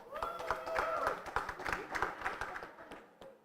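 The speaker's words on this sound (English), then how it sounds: "Is that you clapping, Natalia?" Scattered hand clapping from a few people at a student electorate debate, a quick uneven patter of claps that thins out toward the end, heard alone and fairly faint.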